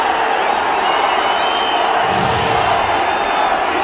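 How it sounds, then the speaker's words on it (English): Packed cricket stadium crowd roaring for a boundary during an India one-day international, a sustained loud cheer with whistles rising midway, under a commentator's voice. "Much to the delight of the crowd here. And massive cheer."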